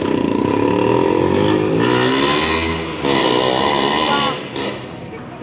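An auto rickshaw engine runs loud and close, driven fast and rashly on a trip to Arunachalam, with a steady rough drone that swells and dips as it revs, heard continuously throughout.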